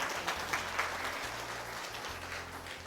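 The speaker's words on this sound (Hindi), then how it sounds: "तालियां बजा के प्रभु का धन्यवाद कीजिए।" A church congregation applauds during a Hindi sermon in a Genesis series, a steady, fairly faint wash of many hands clapping over a low background hum.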